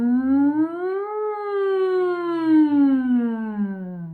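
A single voice imitates a siren in a smooth vocal glissando, sliding up from a low pitch, peaking, then gliding slowly back down, clear and close.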